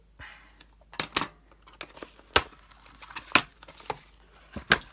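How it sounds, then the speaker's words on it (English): Scissors snip open a cardboard package during a Pokémon unboxing. Close, irregular sharp snips and crackles of packaging come in quick bursts with short pauses between them. "I brought my trusty scissors because I don't trust myself to be able to open anything."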